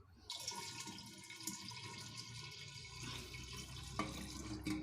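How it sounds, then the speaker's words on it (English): Water poured into a container while making beetroot wine, a steady close splashing pour that runs for several seconds with a brief change near the end. "Then we pour the rest of the water."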